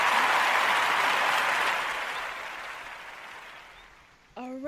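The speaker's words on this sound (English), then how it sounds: "let's give you a huge round of applause here" A round of applause from a studio or event audience starts full, then fades steadily over several seconds. A cheerful voice cuts in briefly at the end.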